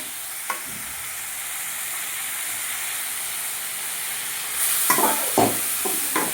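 Tomato chutney with coriander and a pinch of turmeric fries in a pan with a steady, close sizzle and hiss, swelling louder near the end as a few stirring scrapes clatter through.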